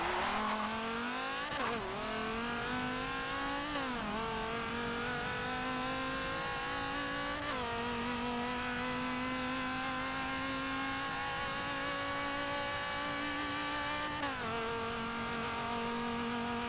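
A supercharged V10 Dodge Viper racing a mile run in Forza 7, a loud droning engine climbing in pitch through each gear with several quick shift dips, close and continuous.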